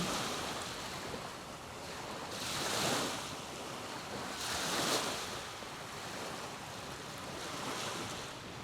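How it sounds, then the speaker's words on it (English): Ocean waves wash onto a beach shoreline in slow surges, each breaking swell swelling and fading under a constant hiss of surf. "begin to listen to the waves on the beach,"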